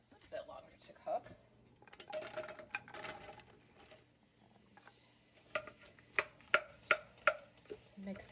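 Carrots and zucchini are stirred in a pot with an herbal oil mixture, giving scattered clinks and scraping taps of utensil on cookware that grow into sharper rhythmic knocks near the end, with a voice talking at times.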